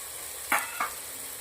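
Finely chopped cabbage goes into a hot pan with onions and peas for a vegetable paneer gravy. A steady close sizzle runs throughout, broken by two quick scraping stirs.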